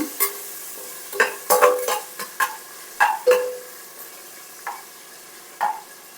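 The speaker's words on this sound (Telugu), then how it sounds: "పుదీనా బాగా వేయించుకోవాలి ఆయిల్లో కరివేపాకు పుదీనా" Mint and curry leaves fry in oil for bagara rice, with a light sizzle under sharp, irregular metal spatula scrapes and clinks against the pan and no talking.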